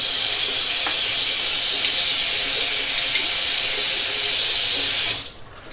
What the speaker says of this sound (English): Just wet my razor down.